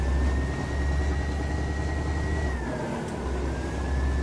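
Truck engine held at full throttle in Euro Truck Simulator 2 hauling a heavy load, a steady low droning rumble with a faint whine that dips briefly before resuming, no talking.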